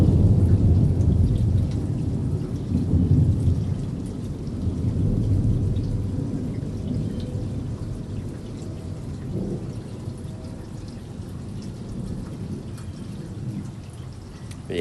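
Steady heavy rain pours through a storm, with deep low thunder rumbling loudly across the first several seconds and softening into a continuous wash of rainfall.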